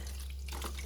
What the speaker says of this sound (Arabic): أكيد بنفتح المي